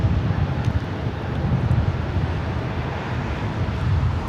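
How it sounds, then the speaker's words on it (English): Frontier Airbus A320neo airliner arriving at LAX from SFO, heard as a steady, loud, low engine roar with wind rumble throughout and no talking. "A320neo coming in from SFO"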